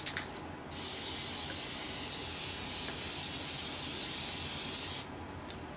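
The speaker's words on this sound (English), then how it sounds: "this is like cupcake spray" A steady aerosol spray hisses continuously for several seconds, bright and close, with faint rustling before and after.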